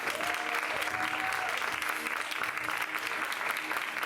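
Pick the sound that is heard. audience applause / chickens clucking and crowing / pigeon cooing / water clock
audience applause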